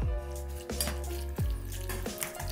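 Wet, squishy stirring of canned tuna with mayonnaise, pepper and soy sauce in a bowl, a spoon scraping and slapping through the sticky mixture in a few close, repeated strokes.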